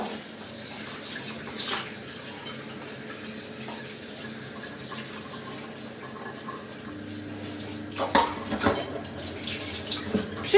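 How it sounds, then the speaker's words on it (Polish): Water poured from a tap over a kaiser bread roll in a bowl, a steady close splashing flow, briefly louder and bubbling toward the end. "Także zalewam ją wodą."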